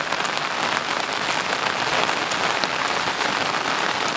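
Steady rain falling outdoors in a rural Miao village, a dense continuous hiss of drops on surfaces, even and fairly loud throughout with no voices.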